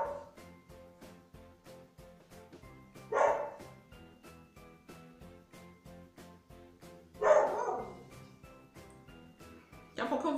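Dogs bark in short repeated bursts through a home, each bark moderately loud and fairly close, with a few louder outbursts, under quiet background talk.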